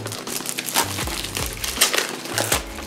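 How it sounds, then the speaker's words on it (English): Wrapping paper crinkles and tears as it is pulled off a Dollar Tree box, a series of close, irregular crumpling rustles and rips. "So we're going to remove the wrapping paper,"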